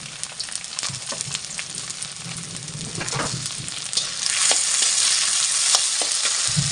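Tomatoes sizzling and frying in a pan while cooking masoor pulav, a steady broadband crackle with occasional stirring scrapes, growing slightly louder toward the end, with no one talking.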